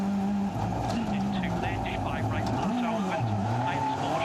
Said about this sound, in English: There we go, just Elfyn just jumping onto the clutch there just to get the revs up, release it and fire it out of that hairpin.